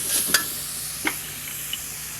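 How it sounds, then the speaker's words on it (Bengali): Pointed gourd and shrimp curry with chili powder and salt is stirred in a hot pan, giving a steady close sizzle with a few sharp scraping clinks of the spoon. "এবার সব কিছু ভালো করে মিশিয়ে নিব।"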